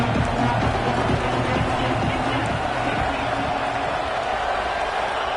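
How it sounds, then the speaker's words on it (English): Steady stadium crowd roar at Texas Tech in a college football video game, a constant dense wash of noise with a play-by-play announcer talking over it. "The crowd electric, trying to help Tech on this 3rd down."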